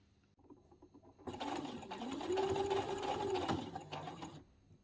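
A sewing machine stitches the gathered ruffle of a dress in one continuous whirring run of about three seconds, close and steady, starting after a quiet pause and stopping abruptly.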